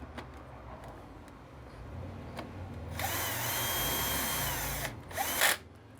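A power drill drives sacrificial screws into the end of a belt sander roller, a steady loud whir for about two seconds that ends with a brief higher burst, with quiet workshop background before it.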